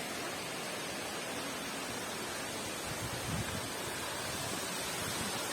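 The Mendelikha waterfalls near Rosa Khutor in Krasnaya Polyana pour in a steady, broadband roar heard from a viewing platform, constant and moderately distant, with no voices.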